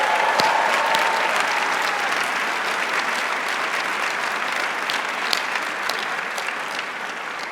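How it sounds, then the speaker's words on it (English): Sustained applause from a large crowd at a university integrative biology commencement ceremony, steady dense clapping filling the room throughout and tapering slightly toward the end. "So let's start officially by giving ourselves a big round of applause."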